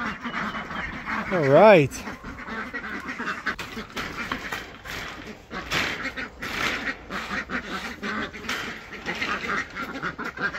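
Pekin and Khaki Campbell ducks quack repeatedly at a barn, a busy, close, overlapping chorus of calls, with a person speaking briefly over them.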